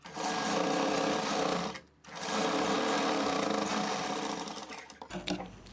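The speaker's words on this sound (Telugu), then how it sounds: "ఇక్కడ మెడ దగ్గర ఒక కుట్టు వేసుకోండి" A sewing machine runs steadily while stitching the lining of a blouse at the neckline. Its rapid, continuous mechanical chatter is close and loud, breaks off briefly once, then resumes before winding down.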